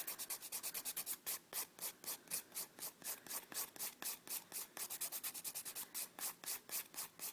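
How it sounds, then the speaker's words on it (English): A 180 grit nail file buffs the surface of a gel nail in quick, even back-and-forth strokes, a soft rhythmic scratching of about three strokes per second, close and quiet. "I'm using about a 180 grit file, so it's not anything too rough"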